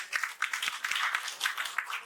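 An auditorium audience at a Hindi Day ceremony in Patna claps to welcome a minister, a moderately loud patter of many hands with uneven surges rather than a roaring ovation.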